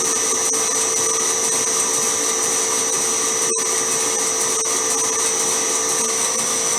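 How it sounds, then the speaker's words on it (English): A lathe centre drills a part for a BSA Bantam, giving a steady, close mechanical whine with a constant high tone that runs unbroken apart from one very brief dip. "So we're doing a centre drill, which helps guide the main drill in."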